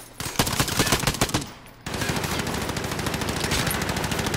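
Automatic gunfire in Call of Duty: Modern Warfare, loud and close, with a rapid burst, a brief pause, then a longer unbroken stream of fast rounds.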